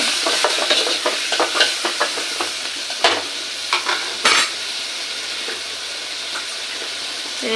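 Tomatoes sizzle in a hot pan for a green sundaikai kulambu while a spoon stirs and scrapes in quick, uneven strokes, with a couple of sharper knocks against the pan.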